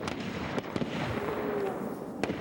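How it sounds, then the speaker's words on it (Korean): Rifle shots ring out on an army live-fire range during recruit training, several sharp distant cracks over a constant noisy background with no clear voices. "신나군의 이름을 걸고 격발."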